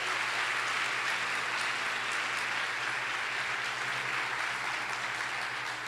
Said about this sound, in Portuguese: Você pode aplaudir, Senhor.